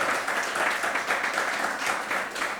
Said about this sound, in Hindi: पहले तो उन दोनों के लिए जोरदार तालियां।